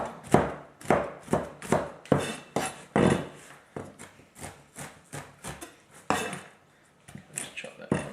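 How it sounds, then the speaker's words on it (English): A knife chopping cookies on a board, a rapid series of sharp, close knocks in uneven bursts with short pauses between, and no talk. "Okay, just want to chop these just like that."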